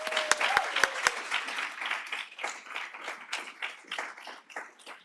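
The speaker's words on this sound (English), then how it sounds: "let's give a round of applause to Ashley and welcome her to the summit" An audience at a food law student leadership summit applauding to welcome a keynote speaker, a few sharp individual claps up front swelling into sustained, fairly close clapping from the crowd.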